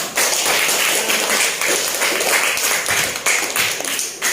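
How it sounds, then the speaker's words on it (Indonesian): A classroom of students claps together after presentations in an Islamic religious education lesson, a dense, steady patter of many hands filling the whole stretch with no talking. "Tepuk tangan untuk kita semua."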